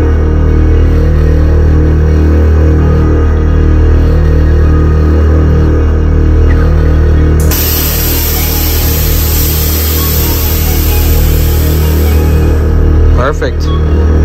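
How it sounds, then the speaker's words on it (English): An air compressor inflating a vehicle's air suspension, heard as a loud, continuous droning hum with a steady pulsing throb that fills the whole stretch, its character shifting partway through. "Sorry about the compressor noise."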